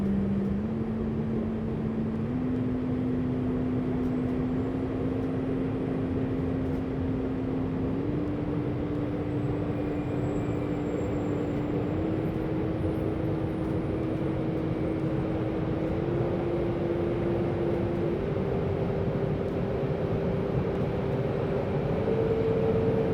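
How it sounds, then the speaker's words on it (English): A TS2021 ICE train on the Northeast Corridor accelerates, its motor whine stepping up through a ladder of distinct rising pitches over a steady rumble, continuous and fairly close with no talk. "You'll hear 11 unique pitches as the train accelerates."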